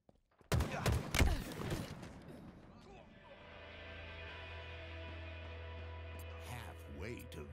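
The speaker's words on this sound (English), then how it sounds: "In a hail of gunfire." A quick burst of rapid gunshots in the video game Halo rings out loud, followed by a steady mechanical drone with synthetic game-like tones.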